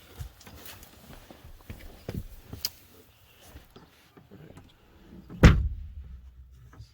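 The door of a Honda Accord, with its inner panel removed during a latch cable repair, swings shut with one solid thud after some quiet handling clicks and shuffling.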